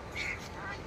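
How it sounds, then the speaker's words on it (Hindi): Ducks quacking on a pond in the deer park at Hauz Khas, Delhi, a short nasal quack heard at moderate distance over outdoor background noise. "उसमें बतख भी देखने को मिल रही है आपको"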